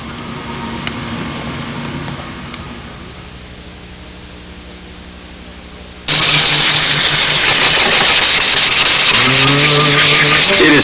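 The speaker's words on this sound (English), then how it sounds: "It is such a difference when you're sanding any material." Fine 600-grit sandpaper rubbing over a silver dope finish on a model aircraft build, a soft steady scratch that gives way to a much louder, continuous, dense rasping stroke for the latter half, with no talking.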